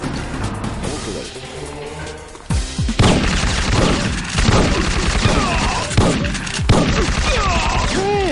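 Rapid video-game gunfire crackles in dense, repeated bursts, with sharp individual shots and impacts layered over a busy in-game soundscape.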